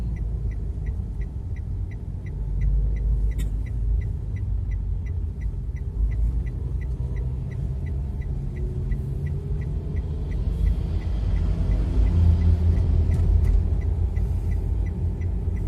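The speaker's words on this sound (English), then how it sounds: "It's because of these lorry drivers who drive very slow." Steady road traffic on a winding route in Java, with a slow, heavy lorry's low engine drone and rumble close by, continuous throughout and swelling slightly louder toward the end, with no talking.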